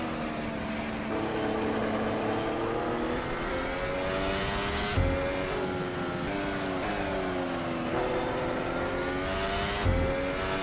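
A race car in Assetto Corsa screams through a lap, its high engine note rising and falling through gear changes, with brief thumps at shifts, loud and close with no talking.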